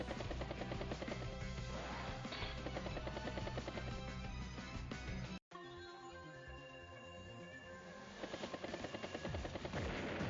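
A battlecopter attack in the video game Advance Wars: Days of Ruin, heard as a dense, loud whirring rotor and rapid gunfire barrage. There is a brief cut to silence midway, then the barrage resumes.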